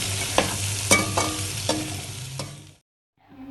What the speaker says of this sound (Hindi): उसके अंदर आधा किलो हमने प्याज डाल दिया। अब हम इसको मिक्स कर लेंगे।